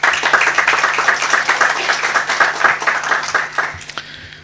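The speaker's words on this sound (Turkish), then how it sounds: "Huzurlarınızda seçilen arkadaşlarımızı bir kez daha alkışlatmak istiyorum." A meeting audience applauds newly elected members, giving steady dense clapping from many hands that stays loud and then tapers off near the end.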